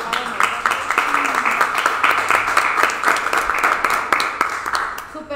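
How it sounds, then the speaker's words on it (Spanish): An audience at a talent show bursts into sustained, lively applause, many hands clapping in a dense crackling patter with a few louder individual claps, while voices murmur and call out underneath. "Un aplauso fuerte para todos los que participaron."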